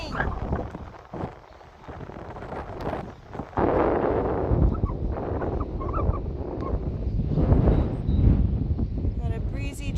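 Wind blusters on a chilly, breezy stretch of coast at Piedras Blancas. It is a steady, rough low roar with buffeting against the microphone, and a person talks over it throughout.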